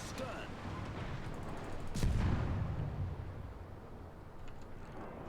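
Destroyer guns in a naval warship game fire in a short volley, a heavy low boom at about two seconds swelling over a steady rumble of engine and sea noise, with a quieter rolling tail afterward.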